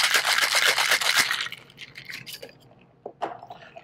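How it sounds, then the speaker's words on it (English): A cocktail of moonshine whiskey, mint, grapefruit juice and ice is shaken in a shaker, a bright rapid rattle of ice for about a second and a half that then stops, followed by a few scattered clinks. "Give that a nice shake."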